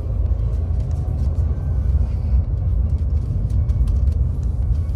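A Mercedes C300 drives slowly along a quiet city back street, its engine and tyre rumble a steady, continuous drone with faint distant clicks and traffic noise above it.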